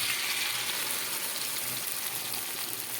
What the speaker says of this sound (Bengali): এবার পটলগুলো সব দিয়ে লাল করে ভেজে নেবো